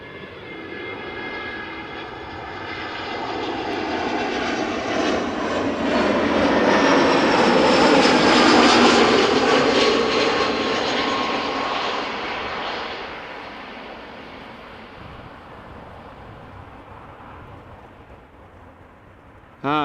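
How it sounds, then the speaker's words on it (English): An EasyJet Airbus A320 arriving at Amsterdam Schiphol airport roars overhead, its jet engine noise swelling to a loud broad peak midway and then slowly fading, with no talk over it. "on my left there is an EasyJet A320 arriving from Berlin"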